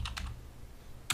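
Keystrokes on a computer keyboard while entering a router command, a few quick clustered taps at the start and one sharper tap near the end, close and fairly quiet with no talking.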